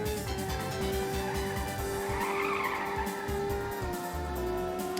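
Car tires sliding and squealing while drifting in the PS1 racing game Ridge Racer, a sustained loud screech over the steady roar of the engine, with no voices.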